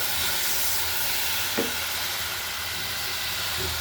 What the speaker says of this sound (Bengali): পেঁয়াজগুলো আগে ভেজে নিচ্ছি, এখন আমি দিয়ে দিতেছি মশলাগুলো